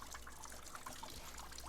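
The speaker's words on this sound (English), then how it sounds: "this is simulating the shower, how the shower would work. The water comes down." Water trickles down steadily in a simulated shower, a soft, continuous dribbling and light splashing, fairly faint and close, with no voices.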